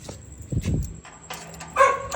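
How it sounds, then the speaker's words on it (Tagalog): A dog brought along by a traveller outdoors gives a few short, yipping barks and whimpers at moderate distance, the loudest burst near the end. "May dala pang aso."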